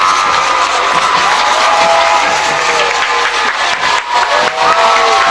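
A home crowd of Tiger high school football fans cheers loudly and steadily at a night playoff game between T.R. Miller and Leeds, with whoops and shouts rising as they come to their feet.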